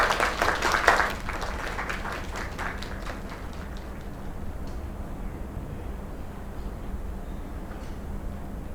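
A small crowd gathered for drinks at a lakeside celebration claps for about a second, and the applause fades into a quiet, hissy room.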